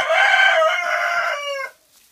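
A rooster crows loudly and up close in a predator-proof farmyard coop, one long sustained call that fills the clip and stops cleanly near the end.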